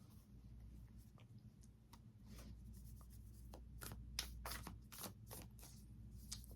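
Soft, repeated tarot card shuffling with quick riffling bursts and light rubbing, close by, over a low steady hum, no talking.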